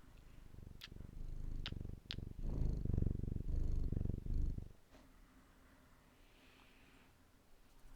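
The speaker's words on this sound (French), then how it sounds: "Elle est venue renifler le micro et je l'ai entendu ronronner." A cat purring right at the microphone: a close, steady low rumble with a few sharp clicks for several seconds, then it stops and only quiet room tone remains.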